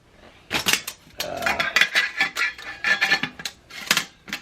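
Someone handles a Snow Peak kettle among camping cookware, making a string of light metallic clinks, taps and rattles in irregular bursts, close by.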